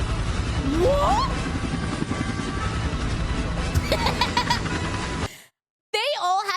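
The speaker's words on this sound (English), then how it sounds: "They all had to ride in a school bus and they got a helicopter" A helicopter arrives at a desert TV-show camp full of children, its rotor a steady chop under children's voices and laughter before the sound cuts out briefly near the end.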